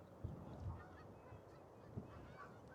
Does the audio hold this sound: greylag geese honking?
yes